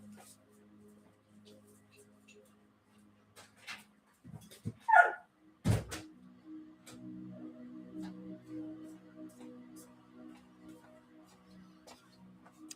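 Dogs bark and whimper indoors as they come downstairs. A few sharp, close barks cluster near the middle, with softer whines and shuffling around them and occasional background noise.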